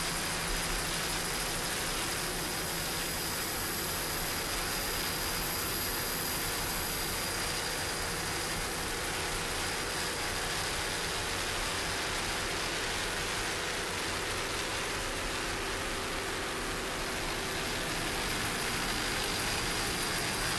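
Offshore powerboat racing engines roar off Ocean City, Maryland, as boats of many classes and years line up and run along the beach; a steady, distant, broadband engine drone holds for the whole stretch without talk.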